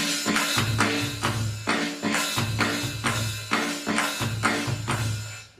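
Open hi-hat on an electronic drum kit, played in a steady driving hard-rock pattern with a low kick under each bar, loud and close with no talking.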